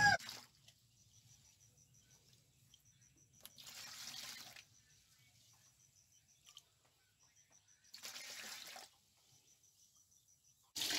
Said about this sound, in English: now I started to transfer the solution